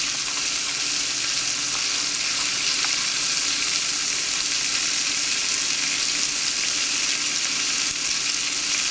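Nuts and raisins toasting in a pan for kabsa, heard as a continuous bright sizzle with faint stirring underneath, close and even throughout with no voices.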